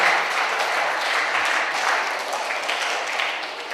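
Schoolchildren at an elementary school assembly for a Make-A-Wish presentation clap together in a steady, dense round of applause that stays loud throughout.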